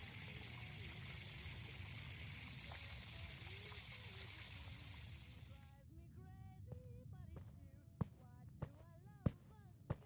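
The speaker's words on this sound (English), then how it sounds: "I'll get the water going." A tap runs steadily to fill a bath, making a smooth rushing flow that stops about halfway through. A few drips and small knocks follow in the quiet, and a voice speaks softly in the background.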